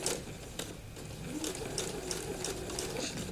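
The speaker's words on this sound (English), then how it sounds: "I'm stitching very, very close to the edge." A sewing machine runs steadily, stitching very close to the fabric edge while making a dress. It gives a continuous close whirring hum with fast rhythmic mechanical clicking and no talking.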